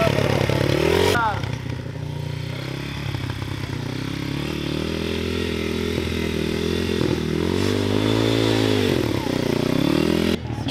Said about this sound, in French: grâce à YCF, il a une moto qui marche bien